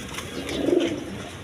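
A pair of Lahori Sirazi pigeons coo softly, a single low burbling coo swelling and fading over a faint background hiss.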